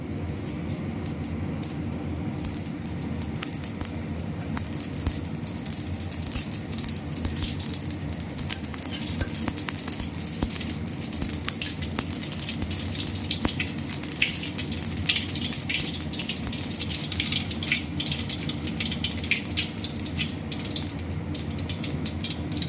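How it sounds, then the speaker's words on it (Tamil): Mustard seeds spluttering in hot sesame oil in a pan, a dense continuous crackle and sizzle with rapid sharp pops throughout, close and steady, with no talking. "இப்போ கடுகு பொரிஞ்சிருச்சுங்க."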